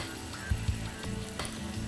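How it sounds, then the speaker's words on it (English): Spiced chicken sizzles and fries in a very hot pan, a steady close crackle with a couple of sharper pops as pieces are lifted and shifted. "You can hear the sizzle right now."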